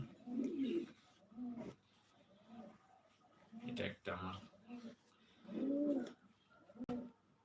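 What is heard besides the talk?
pigeons cooing in a loft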